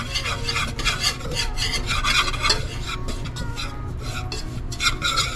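A spoon scrapes and rubs around a pan as flour is stirred into melted butter for a roux, a steady rasping texture with faint sizzling beneath, close and continuous.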